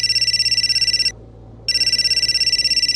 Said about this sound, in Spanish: Ahí el celular vino a taladrarme en mi cabeza.